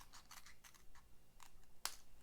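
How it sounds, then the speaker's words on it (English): Scissors cutting straight across paper for a stamped card project, a series of quiet crisp snips and rustles ending in one sharper final cut, close and faint. "I'm going to cut above it, just straight across"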